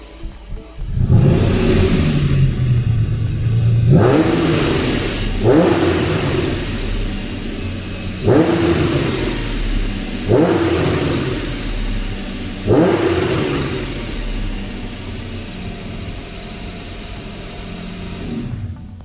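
A warm Ferrari Testarossa engine revs repeatedly in sharp bursts, each rising whine falling back to a rumbling idle between blips, close and loud.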